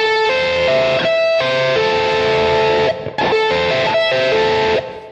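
An electric guitar played through a distortion effect rings out in repeated sweep-picked arpeggios across the first three strings, bright sustained notes in regular phrases with two short gaps, close and alone.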